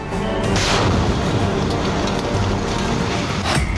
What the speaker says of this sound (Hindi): एक धमाका और 4 मंजिला इमारत मलबा बन गई।